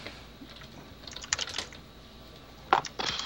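Typing on a computer keyboard, two short quick bursts of clicky keystrokes separated by a quiet pause, close and fairly soft, with no talking.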